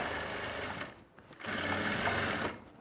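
Electric sewing machine running steadily as it stitches a garment seam on a winter dress, a continuous close mechanical whir that slows and dips briefly midway before resuming at full speed.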